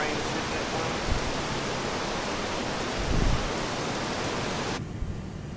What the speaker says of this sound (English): you really hear that rain up in here? Hear it how it's hitting the window?